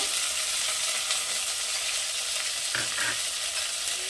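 Chopped green chillies sizzle steadily in a hot pan with browned onions, a constant close hiss of frying with a couple of brief stirring clatters near the end.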